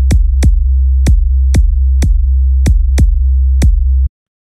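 Loud sustained low bass tone pumping rhythmically, its level ducking sharply with each of eight percussive clicks, then cutting off abruptly.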